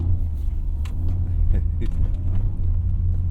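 A Toyota GR Corolla with all-wheel drive and winter tires drives through snow and slush, giving a steady low engine and road rumble with faint tire noise throughout.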